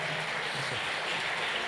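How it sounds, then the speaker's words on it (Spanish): A short burst of audience applause after a folk dance performance at a folkloric music school presentation, a steady dense clapping wash with no talk. "Un fuerte aplauso para el baile"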